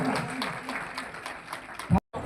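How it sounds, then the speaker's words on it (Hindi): A community hall crowd at a Sen Samaj event claps in a steady, moderately loud burst, with a voice speaking over it before an abrupt cut. "ताली जोरदार बजाइए।"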